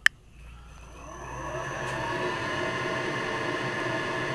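A large wood gas blower, its speed set to 25 hertz by a VFD, whooshes as a steady broadband roar that swells gradually after a sharp click at the start, with no voices.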